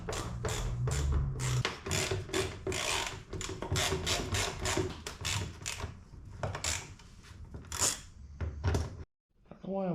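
Torx bolts come loose on a 2024 Can-Am Maverick X3, heard as a run of sharp, close ratcheting clicks and scraping metal knocks, mixed in with someone talking.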